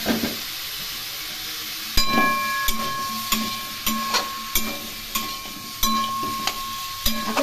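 Onion and pumpkin sizzle steadily in a hot pan while a spatula scrapes and stirs in regular rhythmic strokes, each pass producing a short clatter against the continuous frying hiss.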